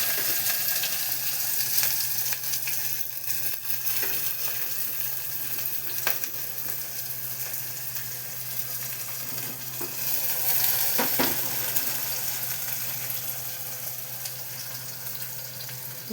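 Onion and garlic fry with bay leaf in a pan, giving a steady close sizzle with occasional stirring scrapes throughout.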